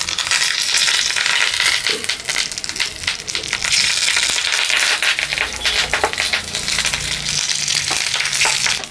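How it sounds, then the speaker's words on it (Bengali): Rohu fish roe paturi wrapped in banana leaf fries in oil in a pan, giving a loud, continuous crackling sizzle with scattered sharper pops and scraping stirs throughout. "আমি ভেজে নিচ্ছি আর একটু তেল দিয়ে দিচ্ছি"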